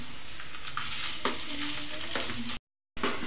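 Onion with ginger garlic paste sizzles steadily in a pan for egg curry, nearby and even, with a few stirring scrapes and a brief dropout of sound near the end.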